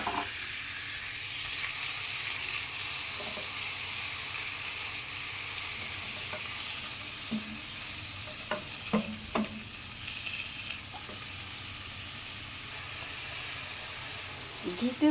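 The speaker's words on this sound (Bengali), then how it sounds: "লাউটা ভেজে নিতে হবে।" Grated bottle gourd fries in ghee with a steady, close sizzle and hiss, broken by scraping stirs and a few sharp clinks of a spoon against the pan.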